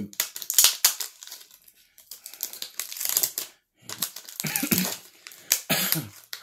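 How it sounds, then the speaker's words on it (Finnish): Someone coughs in short, close bursts while tasting skyr at a table, with crinkling packaging and clinking spoon noises in between. "vähän yskisetän tässä"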